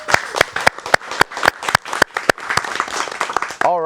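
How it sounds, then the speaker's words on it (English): A small audience at a Rotary youth community arts event gives sharp, sparse applause, with distinct individual claps standing out over a softer patter, close and steady for a few seconds before a voice cuts in. "Can we give her another round of applause, please?"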